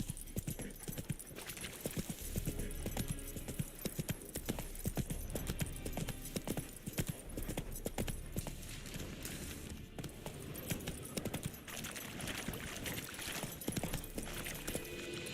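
Hooves of Roach, the horse in The Witcher 3, clip-clopping at a steady trot, a continuous rhythmic beat of close, crisp hoof strikes with no voices over it.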